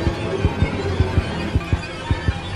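A heartbeat sound effect from the Granny horror video game, made of rapid, evenly spaced deep double thumps over a low ambient hum, loud and alone with no talking.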